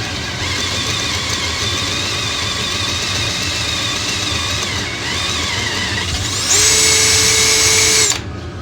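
A power drill runs with a bent, wobbling bit. Its loud whirring motor hums steadily and rises to a higher-pitched whine near the end before cutting off, close up with no speech.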